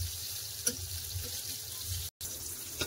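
Pointed gourd pieces fry in mustard oil while being turned over, a steady close sizzle with a faint clink of the utensil and a brief dropout near the end.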